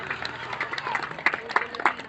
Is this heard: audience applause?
yes